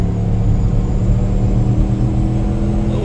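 A 2007 Volvo S80 with a 4.4 V8 gives a deep, steady engine roar from inside the car, holding a constant low rumble and hum with no talk over it.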